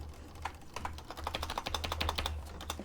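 Someone types on a computer keyboard with an English layout: a close, quiet, quick run of crisp key clicks with brief pauses and no talking.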